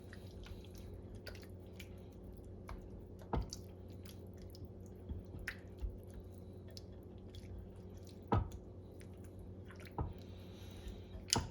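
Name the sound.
stirring tomato sauce with onions, peppers and garlic in a pan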